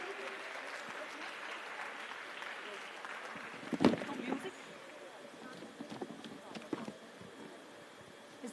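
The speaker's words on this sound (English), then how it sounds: "Big round of applause, please." Applause for an award winner at an entrepreneurship summit in Hyderabad, a broad wash of clapping from a large hall audience with voices and a cheer over it, tapering toward the end.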